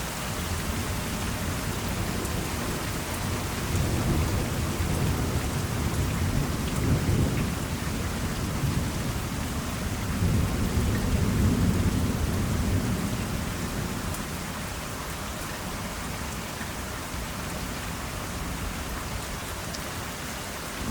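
A Kentucky thunderstorm: steady heavy rain hisses throughout while low rolling thunder swells and rumbles in the middle, distant and continuous.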